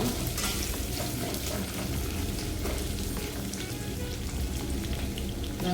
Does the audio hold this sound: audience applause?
no